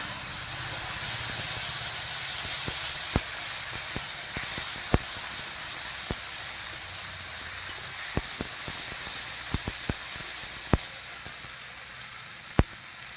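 Ground paste of black pepper, ginger, cumin, coriander and green chilli hisses and sizzles steadily in hot oil. The frying is close and continuous, with occasional sharp crackles and pops.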